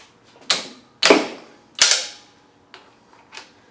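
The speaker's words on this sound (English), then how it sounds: "Next we undo the camshaft bolt." A socket wrench loosens the camshaft bolt on a Yamaha XV1000 Midnight Special motorcycle engine: three sharp metallic clicks and cracks, then two softer ones, spaced apart in a quiet workshop.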